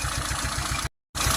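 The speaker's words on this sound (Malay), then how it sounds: "sekiranya saya dah cabut, enjin akan bergegar macam nak mati." Proton Wira engine idling rough with one spark plug removed, close up, a steady uneven low throb that cuts out briefly and then returns.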